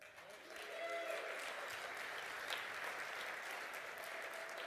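Mainframe customers in a conference hall clap and cheer at a moderate distance. The applause builds quickly and then stays steady with scattered whoops.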